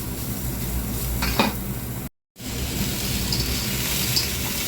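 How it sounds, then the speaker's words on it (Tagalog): Garlic, onions and tofu sauté in a pan with a steady, close sizzle, a few light clinks and scrapes of a utensil, and a brief dropout of sound partway through. "So, gisa-gisa lang."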